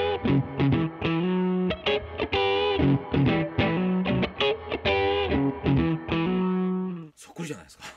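An electric guitar with humbucker pickups plays a bluesy lead line through an ODu1 overdrive pedal with reverb added, a warm distorted tone with sustained bent notes and quick phrases, ending in a short decaying tail.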